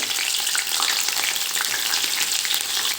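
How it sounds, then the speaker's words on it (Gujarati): Green chillies fry in hot oil with a steady, dense sizzle and faint crackle, close and continuous, with no voices. "આપણા લીલા મરચાંને તળી લેવાના છે એને આ રીતે તળવાના છે"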